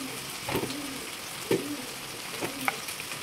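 Spices such as chili powder and coriander powder being mixed into egg in a frying pan for egg noodles, a steady soft sizzle with a few spatula strokes against the pan, close by.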